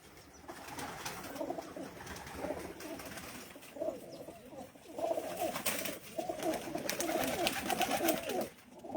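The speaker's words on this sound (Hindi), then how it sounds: "ये बड़े कबूतर हैं जी।" Large pigeons coo repeatedly on a rooftop, their soft throaty calls rising and falling close by in overlapping phrases, with faint voices in the background.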